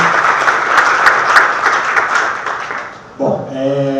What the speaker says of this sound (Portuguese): Palmas para todos, maravilhoso.